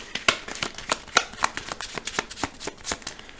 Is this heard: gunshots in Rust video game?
no